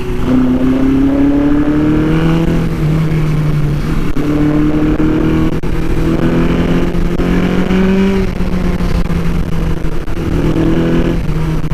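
A Suzuki GS850 scrambler motorcycle ridden offroad, its engine droning loud and close throughout with repeated rising revs and gear changes, bogging slightly at times.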